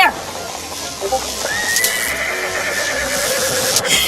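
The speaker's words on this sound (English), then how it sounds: "You pathetic horse." Horse neighing as an audio drama effect, a loud whinny rising and trailing off over busy background noise, with faint hoofbeats and a brief voice.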